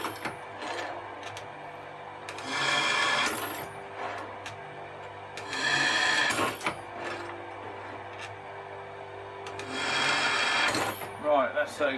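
Holes being drilled into timber during a narrowboat build and fit-out, heard as three separate close, grinding bursts of several seconds each, with quieter pauses and faint workshop noise between them.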